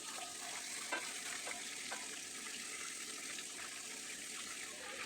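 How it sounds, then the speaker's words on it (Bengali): Broiler chicken pieces frying in oil in a wok give off a steady, moderately loud sizzle and hiss that runs throughout, with a few faint clinks of stirring and no voices. "মাংসগুলোকে উল্টে পাল্টে খুব ভালোভাবে ভেজে নিব।"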